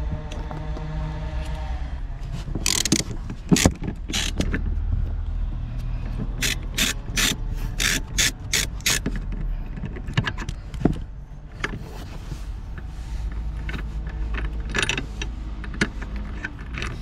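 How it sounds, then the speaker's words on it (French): Ratchet wrench unscrewing the front seat bolts of a Peugeot 308 T9, with bursts of quick metallic clicking and rattling tool handling, close up and without speech. "une fois que vous avez dévissé les 4 vis"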